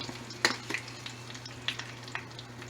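Eggs fry in foamy butter in a pan, giving a soft steady sizzle with scattered sharper crackles and pops close by, and no talking.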